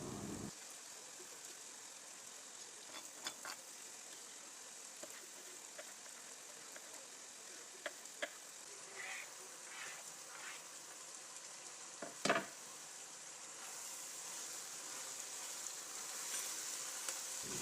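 Chopped vegetables and zucchini for a winter salad sizzle and fry in a pan, a steady close hiss with occasional brief clinks and scrapes of stirring.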